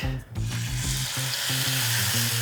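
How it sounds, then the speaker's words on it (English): Marinated steak sears in neutral oil in a pan, a steady close sizzle over a low hum that pulses in short repeating bursts, with no voices. "We will add some oil to the pan, neutral oil once again. We'll put down our steak."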